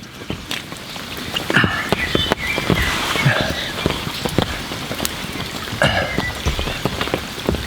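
Torrential rain beats down on a fishing bivvy at Meadow Lake in France, a loud, dense, steady downpour with heavier drops thudding close by throughout.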